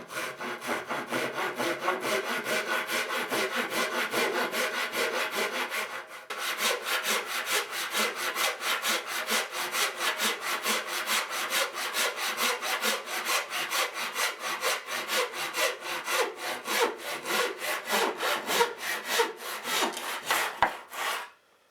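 A handsaw cuts through a piece of wood in a long, steady run of rapid back-and-forth strokes, loud and close, with a brief pause partway through before the sawing resumes and then stops.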